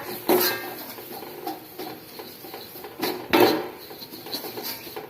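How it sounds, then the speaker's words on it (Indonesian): A spoon or spatula scraping and clinking against a pan while potato croquette mixture is quickly stirred with a flour paste; close metallic knocks and scrapes come in irregular bursts. "Oke, kita aduk cepat ya. Kita aduk cepat."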